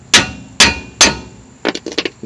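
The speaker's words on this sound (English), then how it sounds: "Get you a hammer, bang on it a couple times" Three loud metallic hammer bangs ring out close up on the drive shaft of a 1999-2004 Ford Mustang, followed by a few quicker, lighter clanks.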